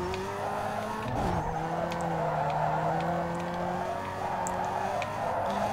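A Mazda Miata fitted with a drift-tuned third gear slides around in Need for Speed Underground 2, with tires squealing steadily over a droning engine that rises and falls, sustained and close with no talk.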